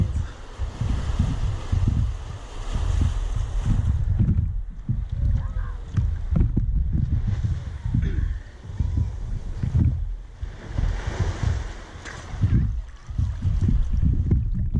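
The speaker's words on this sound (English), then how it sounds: "Oh, here comes a wave." An ocean wave rolls in at a snorkeling spot, a broad rushing surge of water that swells and recedes in repeated waves close to the microphone, with wind buffeting throughout.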